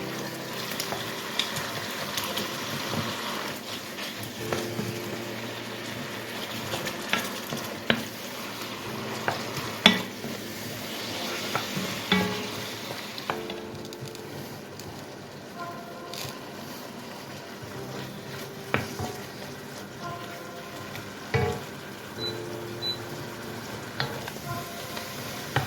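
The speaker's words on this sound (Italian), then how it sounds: "la salsiccia. Bene, andrò a farla sfrigolare" Italian sausage sizzling in a pan while wild boar alla cacciatora is cooked: a constant close frying hiss with scattered pops and stirring clatters running throughout, no talking.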